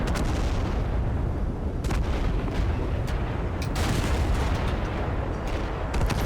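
A Terminator unleashes a rocket barrage in the Total Conflict: Resistance video game: dense, continuous booming explosions and gunfire roll on without pause, with a few sharper cracks standing out, and no talking.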